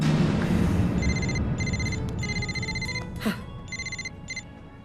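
A telephone rings in bursts of a bright electronic trill, repeating several times with short gaps, loud and close over a low background murmur.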